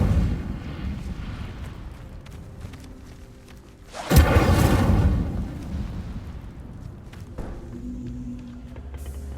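A fiery Incendio spell bursts with a loud, roaring whoosh in Hogwarts Legacy, a sudden swell that lingers for a couple of seconds before fading into quieter game ambience.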